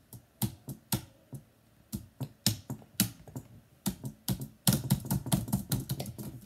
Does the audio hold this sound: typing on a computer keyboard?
yes